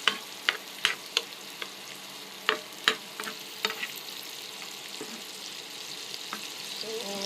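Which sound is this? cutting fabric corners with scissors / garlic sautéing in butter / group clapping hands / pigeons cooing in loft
garlic sautéing in butter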